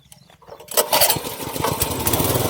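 A small petrol engine on a mini farm tiller catches and starts, jumping from near-quiet into a loud, busy close-up running roar that holds steady to the end.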